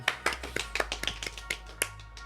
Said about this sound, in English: Everybody give a golf clap.